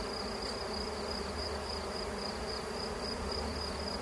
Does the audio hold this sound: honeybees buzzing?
yes